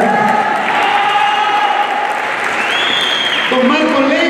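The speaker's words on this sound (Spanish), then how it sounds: "un aplauso para" Audience applause fills a school semester-closing ceremony at an arts school, steady and loud throughout, with cheering voices, a whoop and talk mixed in over the clapping.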